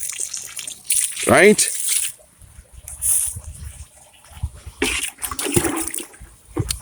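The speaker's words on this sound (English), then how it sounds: "Generous, very generous amount of water." Water from a watering can splashes in intermittent bursts onto pak choy and other garden plants on a hot day, with a person talking over the pouring.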